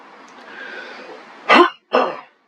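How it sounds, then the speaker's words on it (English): A man clears his throat with two loud, close, harsh bursts after a stretch of quiet breathy sound, a snort-like grunting that ends abruptly. "My deepest apologies for my constant grunting, snorting, sniffling, barking, whatever you want to call it."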